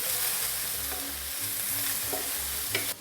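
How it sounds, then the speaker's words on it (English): Chicken sizzles and browns in a hot pan, with a steady close frying hiss and occasional soft stirring scrapes, and no voices. "My chicken is sizzling and we're getting some browning."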